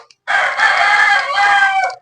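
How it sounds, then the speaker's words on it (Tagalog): A rooster crows loud and close, one long sustained cock-a-doodle-doo that rises, holds and trails off, with no one speaking over it. "Ingay ng manok."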